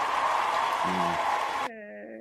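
A short canned crowd cheer sound effect plays loudly for under two seconds, then cuts off abruptly into a brief tonal tail.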